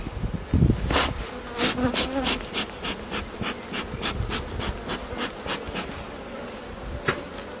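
Honeybees buzz steadily at the hive, a close, continuous drone with individual bees whining past in repeated swells, with no talking over it.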